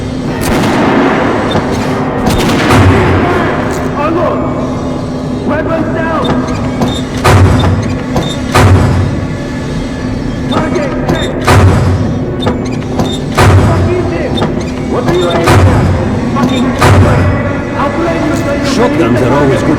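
Gunfire from a Kalashnikov rifle in Metro 2033 Redux pops in scattered loud shots and thuds over a droning underground ambience, while voices bark orders between the bursts.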